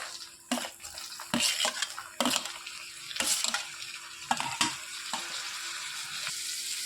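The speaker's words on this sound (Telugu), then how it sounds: "ఉల్లిపాయలు బాగా మగ్గించుకొని టమాటాలు వేసేసుకోవాలి" Onions and tomatoes fry in oil for a potato curry, giving a soft continuous sizzle broken by several louder bursts of stirring and scraping against the pan.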